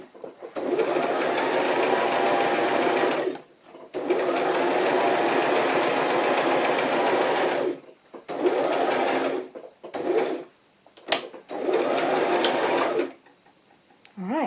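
A sewing machine stitches in long steady runs with a fast, even whirring hum, stopping and restarting several times with short bursts between, close and fairly loud.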